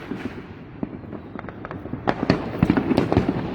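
Fourth of July fireworks popping and crackling at a distance, scattered sharp bursts that start sparse and grow into a denser volley of cracks toward the end.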